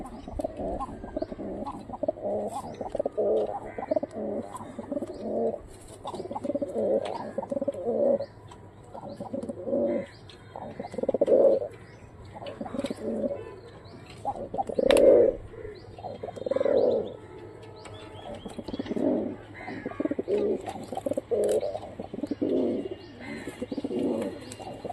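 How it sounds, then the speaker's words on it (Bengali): Giribaz pigeons of old Rajshahi bloodlines coo in repeated soft, throaty rolling phrases. The calls come close and steady in overlapping bursts throughout, with no talking. "একটা মাদি কবুতর দেন যদি ডাকে"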